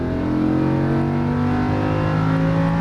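A Lamborghini Huracan engine on a race track, a loud, steady roar with sustained tonal harmonics that rises slightly in pitch as the car accelerates, with no voices over it.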